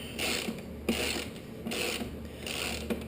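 A socket ratchet works bolts loose on a 2011 Kawasaki Ninja 650R: four steady strokes of rapid ratcheting clicks at close range, moderately loud, with brief pauses between strokes and no voices.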